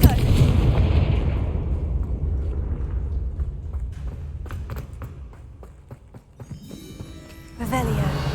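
Blasting spell cast in Hogwarts Legacy, a deep booming explosion at the start that rumbles and fades, followed by sharp crackles and a second burst near the end.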